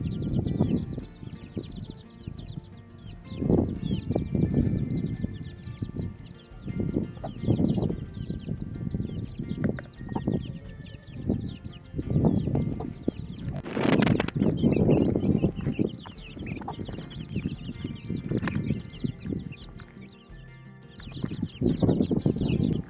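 Chickens cluck in a farmyard: a steady run of close, moderately loud clucks and short squawks with irregular rhythm, a brief louder burst midway, no talking.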